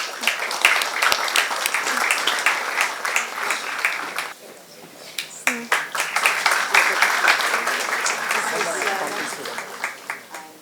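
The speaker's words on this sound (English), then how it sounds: "Can we have a round of applause for them?" An award ceremony audience at an international pharmacy conference breaks into sustained applause, dense clapping that dips briefly midway and then swells again, with faint voices underneath.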